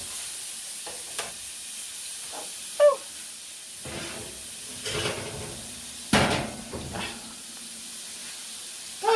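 Chicken tinga with cumin sizzling in a pan, a steady broad hiss of frying with occasional stirring scrapes and clinks, close and continuous with no talk.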